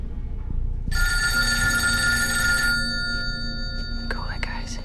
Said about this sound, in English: Stop the phone. Hey, it's just a phone, right?